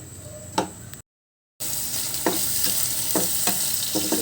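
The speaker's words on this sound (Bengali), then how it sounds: "কাঁচামরিচ কুচি রসুন দেখতেছো যে আমি কি ডাব্বা ডাব্বা করে কাটছি রসুনও এগুলো একটু লালচে করে মুচমুচে করে ভেজে নেব প্রথমে" Chopped green chillies and garlic frying until crisp for a dried shrimp chorchori, a steady close crackling sizzle broken by a brief gap and repeated sharp spatula taps against the pan.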